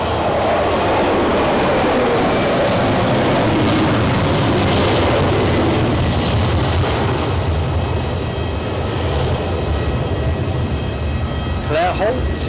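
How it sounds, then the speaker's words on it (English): A United Airlines Boeing 767 takes off from Zurich Airport bound for New York Newark, heard as a loud, steady broadband jet roar that fills the whole stretch without a break. "United Airlines is coming to your right, Eddie."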